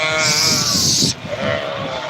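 Lambs bleat up close, one long wavering cry followed by softer overlapping bleats, loud and alone.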